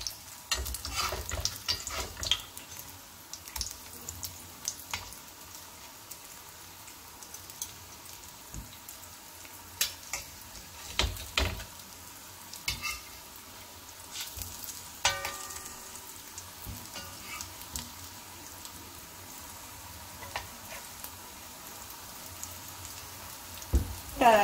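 Drumstick cutlets shallow frying in a pan give a soft, continuous crackling sizzle with scattered sharper pops and taps from handling, steady at moderate level throughout and with no talking.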